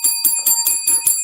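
A bell rung in salute, a rapid run of six bright metallic strikes with sustained ringing tones, loud and close with no talking.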